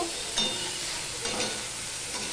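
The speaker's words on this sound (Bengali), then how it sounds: "এবার বেগুনটাও আমি ভেজে নিচ্ছি, দেখতেই পাচ্ছ।" Eggplant slices frying in a pan with oil, a soft steady sizzle broken by a few brief scraping stirs from a spatula, close and moderately loud, no voices.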